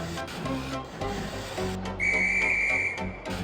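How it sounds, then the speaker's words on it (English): Train guard's whistle giving one shrill sustained blast of about a second over background music and low rumbling, fairly loud and close, in a model railway animation. "But when the guard's whistle blew,"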